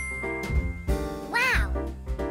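A cat meows several times in quick succession, close and clear, with one longer rising and falling meow in the middle, over a faint musical background.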